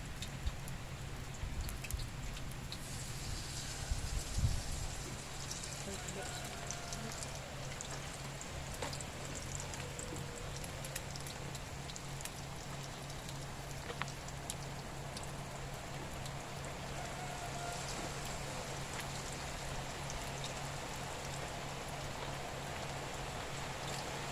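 Steady rain falls over an outdoor hut, a continuous soft hiss of drops on surfaces holding an even level throughout, with a faint low hum beneath and no one speaking.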